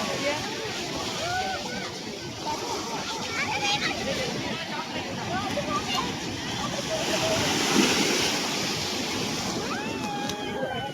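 Ocean waves rolling in and breaking at Kanyakumari beach, a continuous rushing surf that swells in the middle, with people talking over it.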